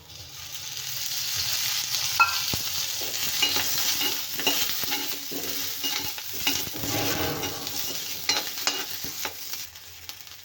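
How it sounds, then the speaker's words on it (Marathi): Onions roast in a little oil in a pan, sizzling steadily and crackling up close. Irregular spoon scrapes and light clinks against the cookware sound through it, with no talking. "तर बघा कांदे पण आपले भाजले आहेत"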